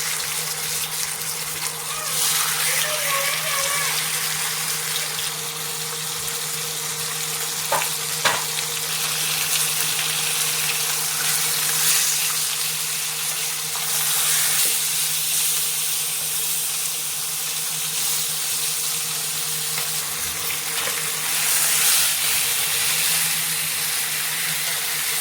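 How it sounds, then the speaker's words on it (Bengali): Tilapia fish fry in hot oil in a frying pan, a steady, continuous sizzle and crackle lasting throughout with occasional clinks of a utensil, no talking. "মাছগুলো এখানে উল্টে পাল্টে খুব ভালো করে ভেজে নেব"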